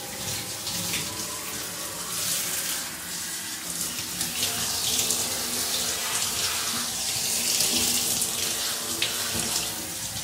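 Tap water runs steadily into a sink as hands are washed, a continuous broadband splashing rush with small shifts in flow, fairly close and with no talk over it.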